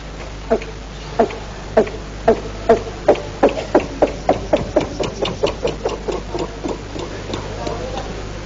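A riverboat engine is cranked and misfires, giving a series of sharp knocking pops that start spaced about half a second apart, then quicken into a faster irregular chugging before fading, all fairly close over a low hum.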